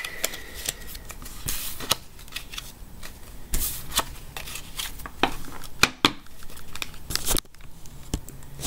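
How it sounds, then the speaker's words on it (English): Playing cards are shuffled repeatedly, with crisp riffles and sharp snaps coming in bursts, close and fairly loud, with no talking. "So we're going to shuffle these."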